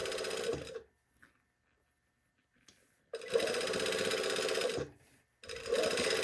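A sewing machine stitches a statement sleeve in close, steady humming runs, one short burst, a pause, then a longer run and another that starts at the end.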